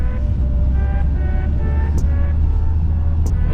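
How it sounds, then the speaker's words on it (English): An Audi TT 225 Roadster, driven for the first time after two years of sitting, cruises with a steady low engine drone and road rumble heard from inside the car, with a couple of faint clicks. "this is the first drive in the Audi TT"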